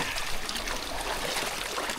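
Strong river current rushing over rocks: a dense, continuous hiss of churning water, close and steady, with no voices.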